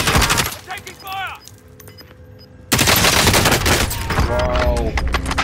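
Rapid bursts of automatic gunfire in the Call of Duty Warzone video game, loud and close, with a quiet lull midway before heavy firing resumes, and a voice talking over the action.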